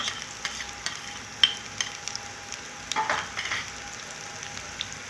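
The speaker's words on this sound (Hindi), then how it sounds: "इसको हम थोड़ा सा फ्राई कर लेते हैं" Chopped onion frying in a pan for chicken vegetable macaroni, a quiet steady sizzle with occasional soft stirring scrapes and clicks, no talk.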